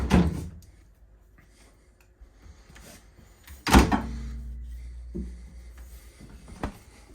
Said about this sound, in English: you also have these nice little freezer drawers with the 2 pull-out trays